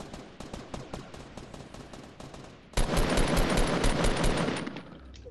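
Rapid gunfire in Fortnite Battle Royale: a string of fast, evenly spaced shots, then a louder, denser burst of sustained automatic fire, close and without talk.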